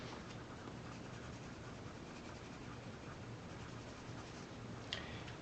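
Graphite pencil burnishing a drawing of fruit, a faint continuous soft scratching and rubbing close by, steady with no pauses and no talk.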